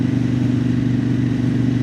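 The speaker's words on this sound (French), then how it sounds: "Pourtant c'est le moteur KTM." A Kove 800X Pro motorcycle powered by a KTM engine runs steadily and loudly throughout, with a constant low droning engine note and no voices over it.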